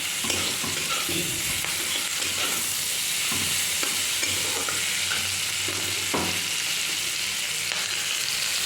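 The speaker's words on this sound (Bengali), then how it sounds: "শাকটা দিয়ে একটু ভালো করে নেড়ে চেড়ে নেবো" Continuous hissing sizzle of bathua greens frying in a pan with green chilies, with repeated scraping and stirring strokes of a utensil, close and steady throughout.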